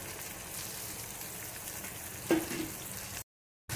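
Ground salt, chili and turmeric frying with chopped tomato and mango in a pan, a low steady sizzle with a single brief scrape of a spoon, then a short cut to silence.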